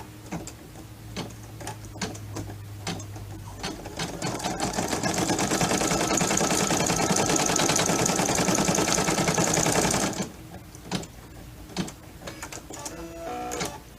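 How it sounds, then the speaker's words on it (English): A sewing machine stitches fabric doll arms and legs, its rapid mechanical whirring clatter building to a sustained run up close, then stopping into a few slower clicks and ticks of the mechanism, with no talk. "we're going to drop our pressure foot and we're going to stitch"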